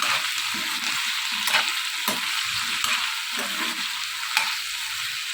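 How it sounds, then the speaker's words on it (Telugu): Eggplant pieces stirred and frying in a pan for a Telugu-style roti chutney, with steady close sizzling broken by regular scraping strokes of the spoon, no voices. "ఇలా వేసుకొని బాగా కలుపుతుంది"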